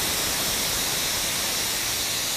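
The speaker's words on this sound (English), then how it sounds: "I turn the energy source off, move the steam away from you, and it will be a loud shh noise" Steam hisses loudly and steadily from the quick-release valve of a Silit Sicomatic pressure cooker making risotto, a continuous close rushing noise with no pauses.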